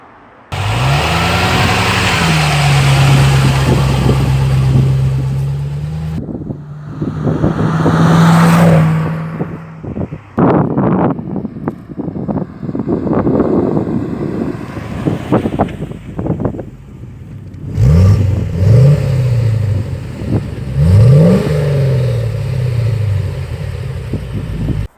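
A Land Rover with a newly finished exhaust drives down a road. Its engine note rises and falls through gear changes, passing close and loud, fading away, then returning with more revving, all buffeted by wind noise.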